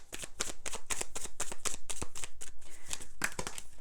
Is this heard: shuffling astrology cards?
yes